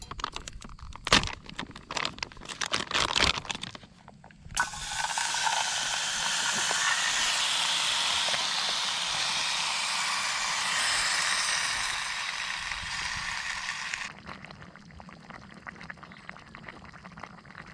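Steady roaring hiss of a backpacking stove burning outdoors, rising after some clattering and holding evenly for several seconds before cutting back to quiet background.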